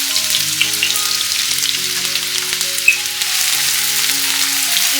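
Chopped onions fry in hot oil with a loud, close, continuous sizzle and crackle, broken by a few brief clinks of a utensil against the pan.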